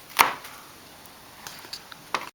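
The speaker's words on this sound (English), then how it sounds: "we're going to want to cut the pre-cooked or the already cooked brats into probably about bite-sized pieces" A knife chopping pre-cooked bratwurst into bite-sized pieces on a board, with one sharp loud cut followed by a few lighter taps spaced across a couple of seconds, close and without talk.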